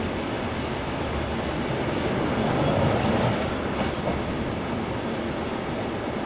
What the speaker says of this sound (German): Gezogen werden wir von der Diesellok TMZ 109 und wir fahren ab jetzt auf der historischen Route der Inlandsbahn.